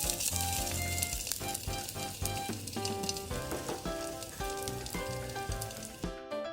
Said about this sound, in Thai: เราก็ผัดพริกแกงนะคะ ให้กระจายเล็กน้อยแล้วก็ยืดไปหน่อยนะคะ